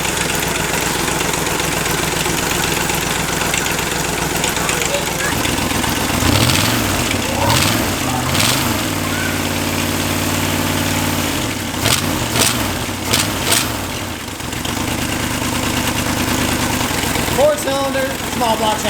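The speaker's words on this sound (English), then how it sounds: "Four-cylinder, small block Chevy." A small block Chevy engine, a 283 run with only one cylinder head fitted, idles roughly nearby, with uneven lumpy firing and a few brief revs; people talk over it at times.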